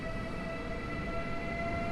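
The Husarz train pulling out of Warszawa Zachodnia station at night, a steady low rumble and hum of rolling stock with faint tonal whine, constant and moderately distant.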